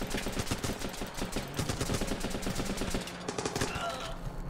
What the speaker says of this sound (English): Someone's shooting at us.